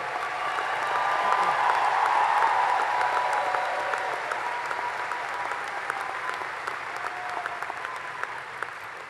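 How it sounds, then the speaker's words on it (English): Sustained applause for a graduating high school class at a commencement ceremony, a dense, even wash of many hands clapping from a large crowd, heard at moderate distance and slowly tapering. "Please join me in giving the class of 2025 a well-deserved round of applause for their achievements and their extraordinary journey."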